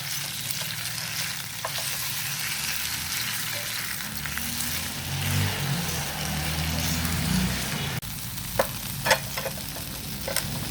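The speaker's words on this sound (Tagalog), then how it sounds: "Lagay ko na yung hipon. Igisa ko lang muna sa kaunti para mawala yung kanyang lansa." Shrimp sauté in a hot pan for ginisang sayote, giving a continuous sizzling hiss with stirring scrapes, a low engine-like rumble in the background, and a few clacks of a utensil near the end.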